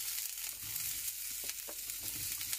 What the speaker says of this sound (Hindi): शिमला मिर्च को हम अलग से फ्राई करेंगे क्योंकि ये बहुत जल्दी नरम हो जाती है।